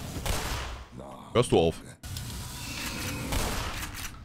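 Gunfire in the video game Black Mesa crackles in rapid bursts at moderate loudness, with someone speaking briefly between the shots.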